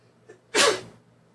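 A person sneezes once, loud and close, a sharp burst after a faint intake of breath, then quiet.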